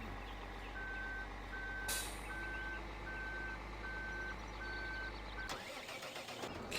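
In Farming Simulator 2013, a truck sounds a steady series of reversing beeps over a low idling engine, followed by a sharp air-brake hiss and a sudden shift in engine noise near the end, with no talking.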